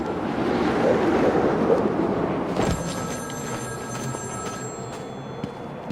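Telephone ringing during the Cold Call Killer side mission in a video game, a sustained electronic ring that starts midway under a loud windy, rumbling ambience and continues to the end.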